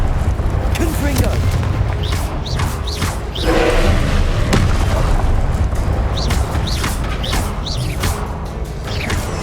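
Confringo blast spells explode repeatedly during Hogwarts Legacy combat. Booming impacts and crashes surge through dense, loud game noise, with brief sharp bursts scattered throughout.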